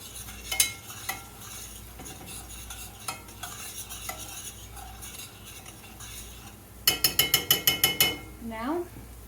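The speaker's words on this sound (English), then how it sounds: "Give it a stir a little bit again." Food is stirred in a pan with pepper, a spoon clinking and scraping against the metal in irregular taps, then a quick run of sharp rhythmic knocks near the end over a faint sizzle.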